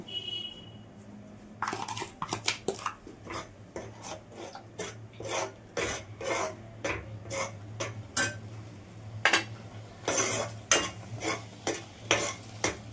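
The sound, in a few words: stirring semolina into warm water in a pan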